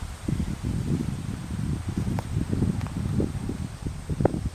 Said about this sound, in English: It's breezy today.